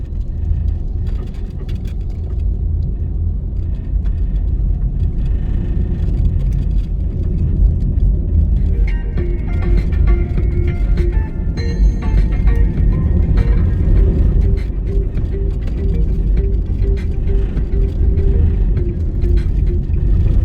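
A car drives through city streets in Kingston, Jamaica, on Chelsea Avenue toward Half Way Tree, with a steady low engine and road rumble that continues loud and unbroken throughout.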